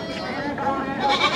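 Goats on a goat farm bleat amid busy background noise, with a couple of cries rising over a continuous din and people talking nearby.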